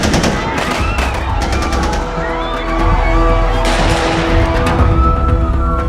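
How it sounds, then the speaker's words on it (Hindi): Gunfire from a film scene of two men storming Mumbai's Chhatrapati Shivaji Terminus station at night in November 2008, loud rapid bursts and single shots layered over a dense, dramatic music score throughout. "दो अनजान आदमी छत्रपति शिवाजी टर्मिनस में घुसे और गोलियां चलाने लगे।"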